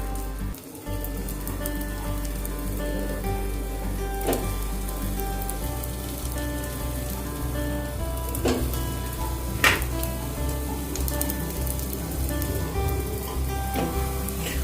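Steady, close sizzling of bati dough balls frying in hot ghee over a low flame, a dense crackling hiss with a few sharper pops, and no voices.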